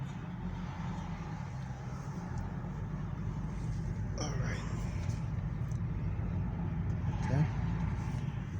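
Inside a moving Volvo V70 Titanium estate car on the road, a steady low engine and road rumble continues throughout, while someone speaks a few brief words.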